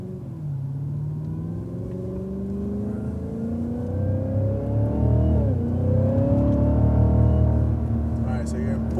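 A race car on a track accelerates hard with its engine note climbing steadily, loud and sustained close by, with a brief dip midway before the revs rise again.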